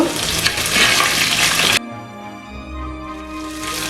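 Shallots, curry leaves and dried chillies sautéing in hot oil, a loud dense sizzle that drops suddenly to a quieter crackle partway through.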